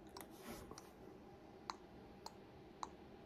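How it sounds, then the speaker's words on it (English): Sharp clicks in an SCP horror video game, sparse and irregularly spaced, a few distinct ticks faint over a low droning background. "I've just started to hear a weird rhythmic clicking sound"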